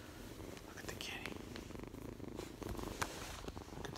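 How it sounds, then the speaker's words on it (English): A cat purrs steadily and softly close by, a continuous low rumble running through the whole stretch, with quiet voices murmuring over it. "Where's the kitty? Look at the kitty."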